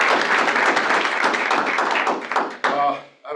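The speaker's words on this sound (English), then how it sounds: "let's give Jim Lee a round of applause" Round of applause from an audience at a team meeting, dense steady clapping that holds for about two and a half seconds, then breaks off into a few thumps and light scattered claps.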